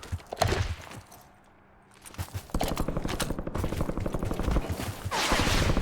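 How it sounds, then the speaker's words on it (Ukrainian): Barrett sniper rifle firing in Warzone, with sharp gunshot cracks and busy gunfire crackle, a quieter lull in the middle, then dense rapid bursts resuming loud and close. "Тестую новий Барет, нову снайпер райфл."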